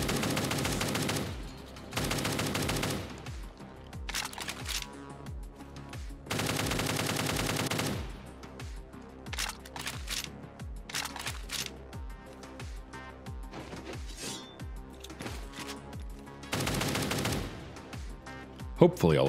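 Redone gunfire in the video game PB, bursts of rapid automatic shots and single cracks spaced across the stretch, loud and close, with pauses between volleys.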